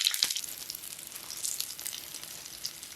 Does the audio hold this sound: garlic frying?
yes